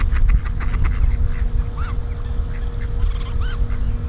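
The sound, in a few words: whistling ducks or geese honking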